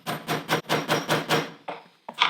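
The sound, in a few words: hammering a metal tube hole punch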